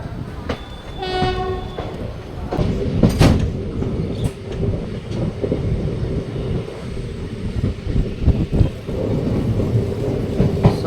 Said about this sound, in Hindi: ट्रेन का डिपार्चर होता हुआ लगभग आधे घंटे की देरी के साथ चंडीगढ़ रेलवे स्टेशन से